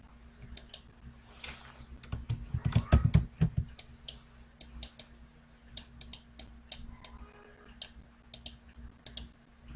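Computer keyboard keys clack in scattered bursts at close range, a dense flurry of quick taps early on, then irregular single strokes, with no voices over them.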